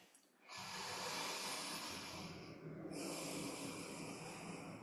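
Deep, slow breath during a morning yoga practice, a loud close airy exhale that fills most of the moment after a short quiet start, with no talking.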